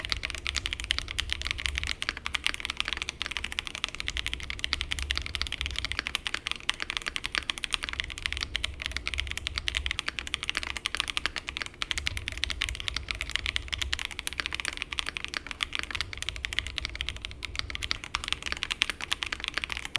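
Rapid, continuous typing on a CIDOO V87 mechanical keyboard, crisp clacking keystrokes going on without pause, close up and alone.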